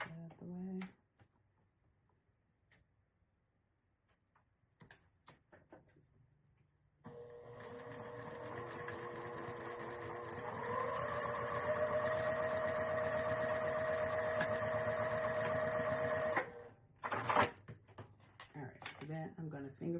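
Sewing machine stitching a quilted coin pouch, running in a steady hum for roughly nine seconds and rising in pitch partway through, with quiet handling sounds before and after and a voice speaking nearby.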